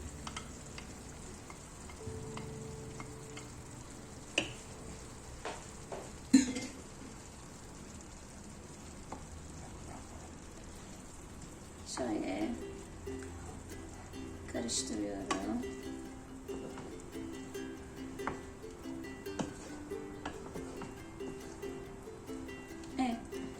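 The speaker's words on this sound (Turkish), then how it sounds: "yumurtalarımı hemen semizotu kavurmama katıyorum" Eggs fry with sautéed purslane in a pan, giving a soft, steady sizzle under occasional utensil knocks and clatters, while a voice talks quietly through the later part.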